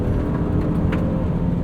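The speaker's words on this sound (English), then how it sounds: "V6 sounds great" Inside a 2023 Honda Pilot driving on an open road, the V6 engine hums steadily beneath continuous tire and road noise, moderately loud and unbroken.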